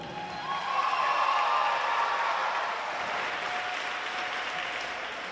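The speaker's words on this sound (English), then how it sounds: "Let's give these seniors another great round of applause" An audience in a school gym claps and cheers for a senior volleyball player on senior night, a swell of applause that rises quickly, peaks and then trails off into lighter clapping.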